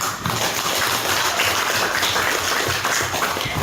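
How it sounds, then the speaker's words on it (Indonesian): A class in a long jump lesson claps together in a dense, steady burst of applause that fills the room from start to finish. "Oke, baik, kasih tepuk tangan."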